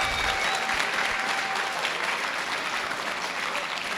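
Crowd at a Street Fighter V tournament top-eight event clapping steadily, a dense wash of applause that holds evenly without pause.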